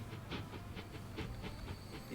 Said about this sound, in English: Here comes the plastic train.